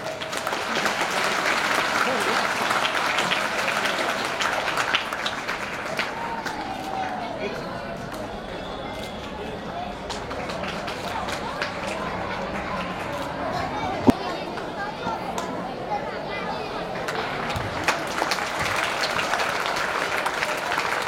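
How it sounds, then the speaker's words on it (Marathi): An audience at an annual school gathering applauds in a dense, sustained round of clapping that dips briefly in the middle and then builds again. Crowd chatter and an amplified voice mix in beneath it. "टाळ्यांचा कडकडाट"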